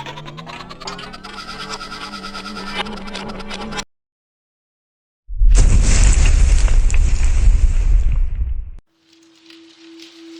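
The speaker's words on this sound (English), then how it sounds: "the gas that explodes right in front of the both of them" A gas explosion in a Spider-Man video game: after music and a brief silence, a loud, close blast erupts with a deep rumbling roar lasting a few seconds, then cuts to a quiet steady tone.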